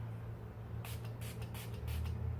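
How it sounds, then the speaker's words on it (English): A spray bottle mists a damp Sonia Kashuk beauty sponge with four quick soft hisses in a row, faint and close, over a low background hum. "I spray my beauty sponge again"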